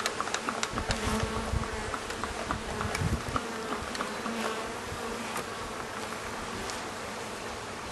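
Honeybees swarm around a hive in a dense, steady buzz, loud and close, with individual bees droning past the microphone.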